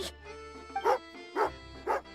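A dog in the Genshin Impact video game barks three times in an even rhythm, moderately close, over a quiet background of game music.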